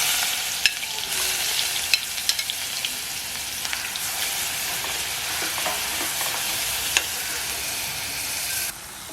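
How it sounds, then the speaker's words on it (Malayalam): Shallots, garlic, green chilies and ginger fry in a pan for a Kottayam-style mackerel curry, giving a steady, close sizzle broken by a few sharp clicks of stirring, with no talking. "അപ്പോൾ നമ്മുടെ ഉള്ളിയും പച്ചമുളകും എല്ലാം നന്നായിട്ട് മുരിഞ്ഞിട്ടുണ്ട്"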